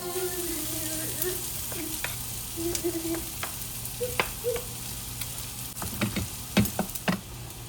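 Pork sisig with citrus pepper spice mix is stirred in a hot pan, a steady close sizzle broken by scraping and clacking of the utensil against the pan, busier near the end.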